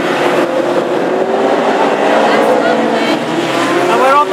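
Classic hot rod race cars lap the oval track at Hednesford, engines roaring in a continuous loud wash of sound as cars pass, with a crowded, busy racing din throughout.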